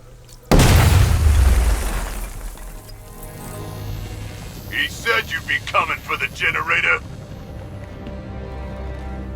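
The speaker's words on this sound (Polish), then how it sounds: "Weźmy w takim razie szybko wybuchowy żel raz jeszcze." Explosive gel detonating in the Batman: Arkham Knight video game, a sudden loud boom that decays into a rumbling tail, followed by a low game soundscape with a burst of brief high crackles.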